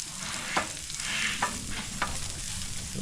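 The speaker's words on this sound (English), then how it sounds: "we're just going to stir that around a little bit until that garlic has cooked about 30 seconds" Garlic frying in olive oil over low heat, with a continuous sizzle broken by several sharp scrapes and taps as a utensil stirs it around the pan.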